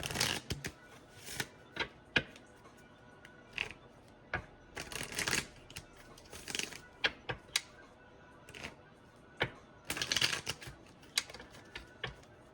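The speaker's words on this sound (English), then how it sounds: "I'm off with my shuffling a little bit right now" Angel Romance oracle cards are shuffled in repeated bursts of crisp riffling and flicking, close and fairly quiet, with short pauses between each round.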